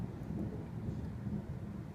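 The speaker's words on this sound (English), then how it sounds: "just listen to those thunder rumbles." Deep, continuous thunder rumbling through a tornadic thunderstorm in Mississauga, Ontario, a steady low roar with rain and wind noise blended in, holding at an even level for the whole stretch.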